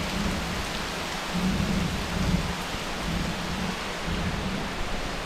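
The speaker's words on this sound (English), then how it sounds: "massive storm." A violent Caribbean thunderstorm in Cozumel, with heavy rain pouring steadily and low thunder rumbling continuously underneath, a dense, loud wash of sound with no speech.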